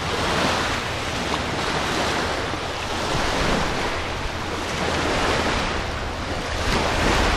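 Waves breaking continuously on the Lake Michigan shore, a loud, close surf wash rising and falling in slow swells with wind rushing across the microphone and no voices.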